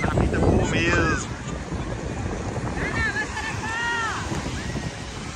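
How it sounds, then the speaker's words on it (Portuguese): Steady loud wind roaring across the microphone at the beach at Long Branch, United States, a constant rushing blast with a few faint high tones poking through. "Tá ventando muito ainda."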